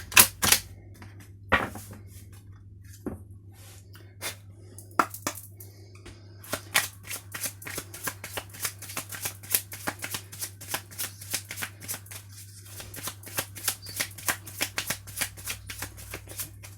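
A deck of oracle cards being shuffled by hand, sparse flicks and riffles at first, then a long run of rapid crisp snapping card sounds, close and clear over a low steady hum.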